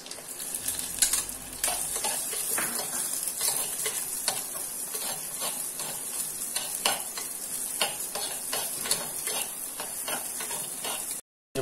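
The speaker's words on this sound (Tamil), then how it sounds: "அதில் மிளகாய் போடுங்க, ரெண்டு மிளகாய், அப்புறம் வெங்காயம்," Green chilies and onions fry in hot oil for an egg curry, giving a steady bright sizzle with frequent crackles and pops throughout, close and continuous, with no voices.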